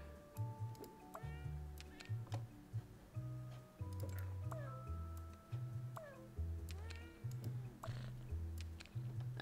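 Several short, rising and falling cat meows from a video game, repeating over a steady rhythmic low musical pulse with faint ticking, fairly close and clear with no talk.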